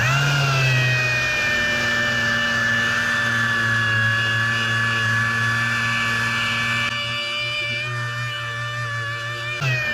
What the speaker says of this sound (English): back to sanding door jambs